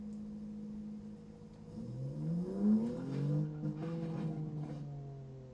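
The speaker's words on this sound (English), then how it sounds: "the 3-cylinder engine now works" A three-cylinder car engine in a driving video game, idling with a steady low drone, then revving up and down in smooth rising and falling sweeps before settling back, faint and alone.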